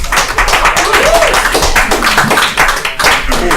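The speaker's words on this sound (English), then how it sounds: "Give a round of applause for John McCombs." A small comedy club audience at an open mic claps for a comedian in loud, close, dense applause that holds steady throughout without letting up, with a few voices faintly underneath.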